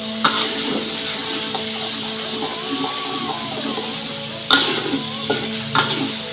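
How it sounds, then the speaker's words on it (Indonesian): Ingredients for yellow-spiced tilapia gulai are sautéed in a pan, giving a steady close sizzle with stirring scrapes throughout and a couple of sharp clanks from the spatula hitting the pan near the end. "kita tumis sampai matang"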